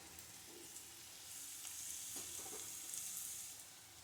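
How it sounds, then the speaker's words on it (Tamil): Onions sauté in a pan for a mushroom gravy, giving a faint, steady sizzle with a few soft stirring scrapes, with no talking. "இந்த வெங்காயம் வதங்கிட்டு இருக்கட்டும்"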